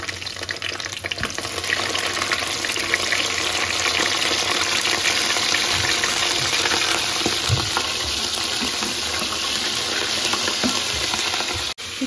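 Chicken frying with light-browned onions in a pot for yakhni pulao: a dense, continuous crackling sizzle, loud and close, with faint stirring scrapes now and then and no talking.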